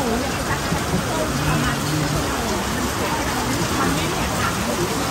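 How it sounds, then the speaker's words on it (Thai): Heavy rain comes down at a riverside restaurant, a constant loud hiss and patter that fills the air while people's voices murmur underneath. "เริ่มตกหนักแล้วครับบรรยากาศดีมาก"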